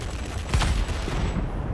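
Aircraft machine-gun fire in World of Warplanes, a short, dense burst of rapid shots over a steady engine drone, heard close and fairly loud.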